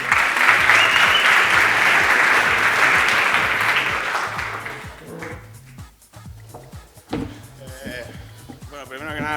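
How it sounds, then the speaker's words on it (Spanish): Conference audience applause, a loud dense burst of clapping for the next speaker that fades out after about five seconds, followed by a voice speaking over a faint repeating low hum. "Un aplauso para él"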